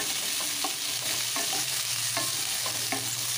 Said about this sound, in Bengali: পেঁয়াজ রসুন ক্যাপসিকাম একসাথে বেশ ভালো করে নাড়াচাড়া করেছি